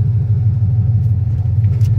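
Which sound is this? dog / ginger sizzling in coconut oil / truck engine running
truck engine running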